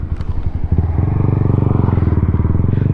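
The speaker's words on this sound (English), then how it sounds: "the Grom's exhaust is kind of obnoxious" Honda Grom motorcycle exhaust, loud and close, a few throttle blips and then a fast, steady pulsing putter while cruising at low speed through a neighborhood.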